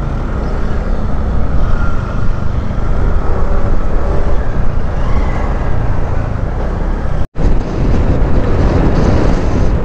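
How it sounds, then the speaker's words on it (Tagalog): Strong outdoor wind buffeting a microphone in Barangay Wawa, a loud continuous roaring rumble with one sudden brief dropout near the end. "Lakas ng hangin."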